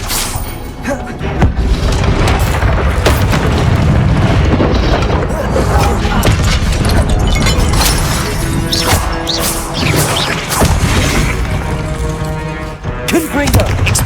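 Confringo blasting spells detonating in the Hogwarts Legacy video game: a dense, loud barrage of booming explosions and crashing impacts, overlapping almost continuously with game music and clatter throughout.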